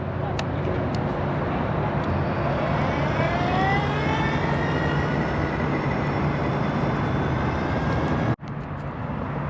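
A 36-volt electric conversion quad ATV, powered by Milwaukee M18 batteries, passes by outdoors with a rising and falling whine over steady rumbling wind noise, ending in a brief sharp bump.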